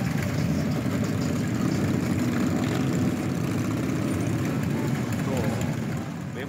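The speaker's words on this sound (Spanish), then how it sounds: "Vemos cómo los ruidos de los motores Harley Davidson" Harley-Davidson motorcycle engines rumbling at a Caribbean HD rally gathering of bikers in Colombia, a steady dense low drone of several engines running close by, constant and loud with crowd noise mixed in.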